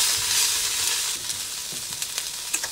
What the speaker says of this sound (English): I'm just going to let that cook in there for about 1 minute